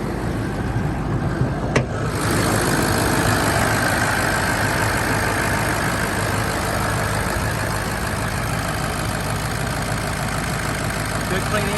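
The diesel engine of a 2005 Ford F-250 Super Duty 4WD manual pickup idles with a steady low rumble, near and continuous, after a brief click at the start.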